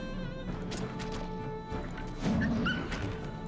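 A dog barks in the video game Wartales, a few short barks over a steady bed of game music and ambience.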